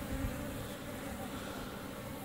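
A swarm of small African honey bees buzzing close by, a dense continuous hum of many wings with no pauses, steady and fairly loud.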